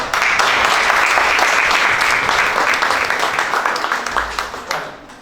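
Loud, dense applause from a crowd, sustained for several seconds before thinning and fading out toward the end.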